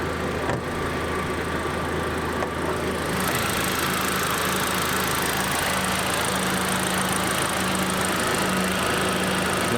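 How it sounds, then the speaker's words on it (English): An Audi TT Mk1 engine idles steadily and loudly up close, with a constant hum and slight vibration that thickens a few seconds in and holds evenly to the end. "I'm gonna kind of let this idle for a while"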